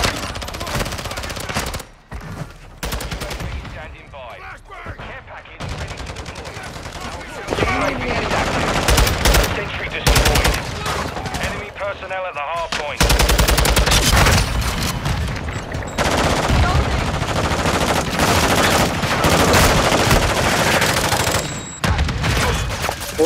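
Dense, continuous gunfire from a Call of Duty multiplayer match on the Shipment map, with automatic bursts and loud shots layered throughout, plus occasional explosion-like thumps and a voice talking over the action.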